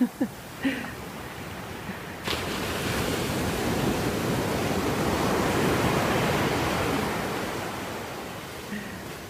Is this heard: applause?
no